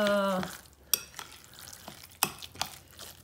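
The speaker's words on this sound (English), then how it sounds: "So you're just going to mix that all up real good." Spicy chicken patty mixture being mixed with a utensil in a bowl, with intermittent wet scrapes and a few sharp knocks against the side, close and fairly quiet after a brief tonal sound at the start.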